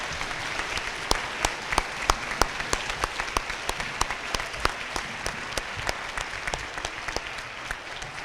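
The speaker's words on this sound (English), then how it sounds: "Let's give them a round of applause." An audience at a seventh-grade school awards presentation claps steadily for award winners. The dense, even applause runs for about eight seconds at a moderate level, with no voices over it.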